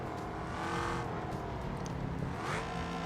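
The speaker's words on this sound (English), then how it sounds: "I just love the sound of this car, though." A loud, throaty racing car engine in BeamMP at Suzuka roars steadily with gear changes and shifting pitch, close and continuous over a few seconds.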